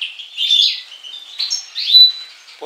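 A caged greenfinch chirps and twitters in quick, bright bursts, with a few louder trills standing out against a quiet background.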